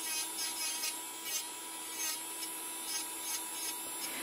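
Electric nail file (ponceuse à ongles) sanding a fingernail during a nail-styling session, a steady high-pitched motor whine with soft rhythmic rubbing passes, close and fairly quiet, no talking.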